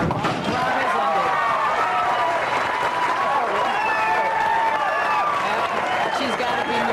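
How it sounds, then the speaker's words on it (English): A packed house at a 1998 women's professional bowling tournament, the Lubbock Texas Open, breaks into sustained, dense applause and cheering that holds steady and loud throughout. "the crowd was standing up to applaud"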